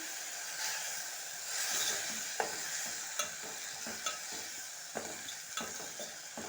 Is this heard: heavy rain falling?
no